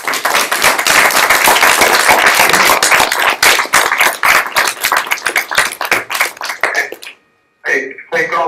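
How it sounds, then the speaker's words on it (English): An audience claps for a speaker on a live call from death row, sharp individual claps from a modest crowd that thin out and scatter before stopping, followed by a voice beginning to talk. "let us all give you a big round of applause"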